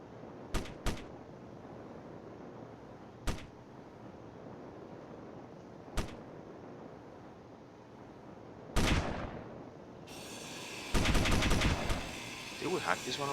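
Automated defense turrets fire in the video game Space Engineers, sharp isolated gunshot bursts spaced a few seconds apart, then a denser crackling volley near the end, heard up close over a quiet background.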